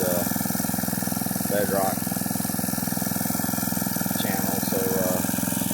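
A gold dredge engine idles in a steady, buzzing drone while dredging a bedrock creek channel, with someone talking over it.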